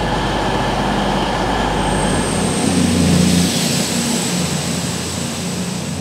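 Rumbling rail ambience on platform 4 at Dorchester station, a low rolling roar with a steady high tone near and loud, easing after a few seconds.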